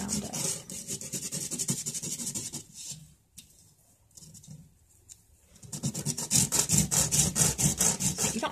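Sandpaper rubs back and forth over embossed copper foil letters in quick, rhythmic rasping strokes, loud and close, with a quieter pause in the middle before the scrubbing resumes more vigorously.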